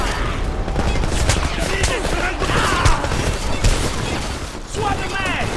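Dense, rapid bursts of automatic gunfire fill a Homefront combat scene, with overlapping shots and heavy impacts. The firing is loud and continuous, with voices mixed into the chaos.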